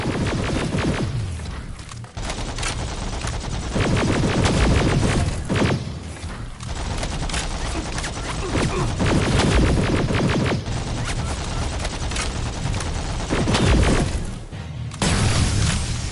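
Rifle fire in Terminator: Resistance comes as a string of heavy, booming single shots at irregular intervals, loud and close over a steady game background.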